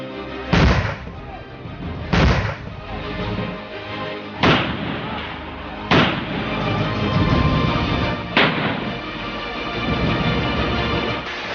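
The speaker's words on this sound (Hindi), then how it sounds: "गोली चली" A series of heavy, booming gunshots, about five, spaced a couple of seconds apart, each with a rumbling echo, loud and fairly close, during a police clash on the Assam–Mizoram border.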